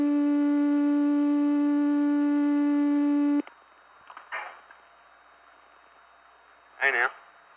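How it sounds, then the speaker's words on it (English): A steady, loud multi-tone telephone signal on the Gainesville, Georgia step tandem exchange from 1979 holds for about three and a half seconds, then cuts off, leaving faint line noise with brief clicks and a short burst of speech. "that's the ANIB sound"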